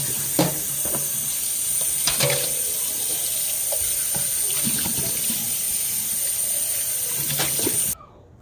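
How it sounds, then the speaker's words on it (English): Tap water runs steadily into a kitchen sink while empty food cans are rinsed out, with intermittent clunks and clatters of metal cans against the sink, close and moderately loud, then cutting off at the end. "we're going to wash our cans out before we put them in the recycling"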